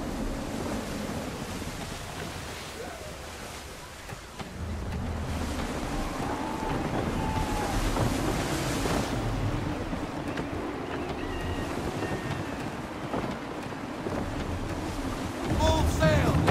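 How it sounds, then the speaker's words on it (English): Steady gusty wind and surging sea waves roll around a sailing ship at sea in Assassin's Creed III, loud and continuous, with a few faint calls and creaks and a stronger gust swelling near the end. "Wind looks to be shifting. Stay alert, Connor. Gusty winds can be difficult to manage."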